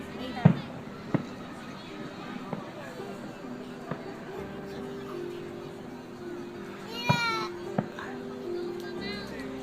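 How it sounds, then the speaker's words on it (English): Distant fireworks over New London burst in a few scattered booms and crackles amid a murmuring outdoor crowd, with a voice and chatter nearby. "watch these beauties, or what you would call it, fireworks"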